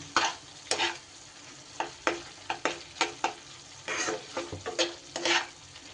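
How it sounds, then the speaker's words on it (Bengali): Ground chili, coriander and cumin powders are stir-fried in a pan, with a rhythmic run of distinct spatula scrapes and clacks over a soft underlying sizzle, close by and with no one speaking. "সব মশলা খুব সুন্দর করে এবার কষিয়ে নেব"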